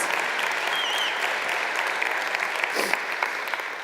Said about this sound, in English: this needs a big clap